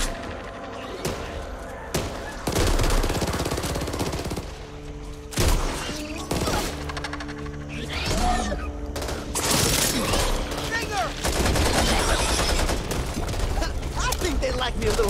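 Assault rifle fire in the shooter game Back 4 Blood rattles in loud repeated bursts over dense game noise, with booms, mechanical clatter and voices talking throughout.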